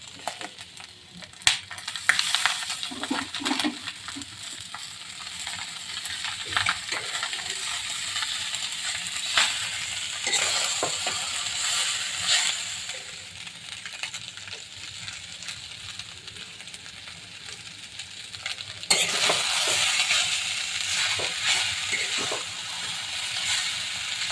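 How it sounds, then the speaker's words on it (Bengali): Ingredients for ramen noodles frying in a pan give a moderate sizzle under repeated clinks and scrapes of a utensil stirring, the hiss swelling louder toward the end. "এবার কিছুক্ষণ ভেজে নেব আমি দুই তিন মিনিটের জন্য"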